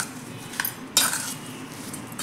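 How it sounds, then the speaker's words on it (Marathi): A spoon clinks a few times against a bowl while turmeric and coriander powder are mixed into a lemon and chilli pickle, with quiet scraping between the sharp taps. "आता हे हलकेसे व्यवस्थित असे मिक्स करून घ्यायचे आहे"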